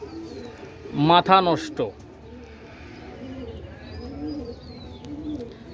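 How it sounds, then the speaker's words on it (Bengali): Domestic crested pigeons in a coop, a young pair, give soft, low cooing that rumbles on steadily after a short burst of nearby male speech at the start. "এটা ডাবওয়ালা কবুতর"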